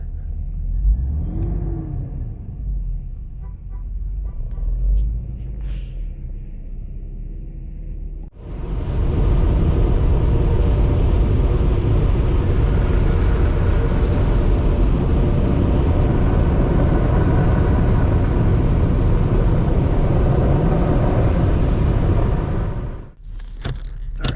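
A 1992 Mercedes 600SEL engine running rough is heard at a low idle, then bursts into a loud, sustained revving roar for about fifteen seconds before cutting back down abruptly.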